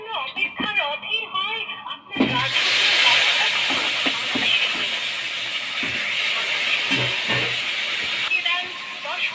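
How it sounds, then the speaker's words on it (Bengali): Koi fish frying lightly in a pan, a loud continuous sizzle and hiss that bursts in after a quiet start and holds steady, with someone talking over it. "মাছটা হালকা ভাজবো, খুব বেশি কড়াও ভাজবো না"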